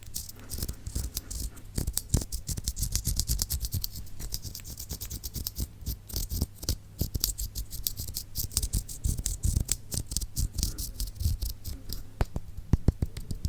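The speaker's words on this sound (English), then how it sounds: "you can run your finger up and down it. Makes like a scratchy sound" A fingertip rubs up and down the bumpy ridges of a wooden sensory board, making a close, dry, scratchy rasp of rapid little clicks that goes on and on at a soft level.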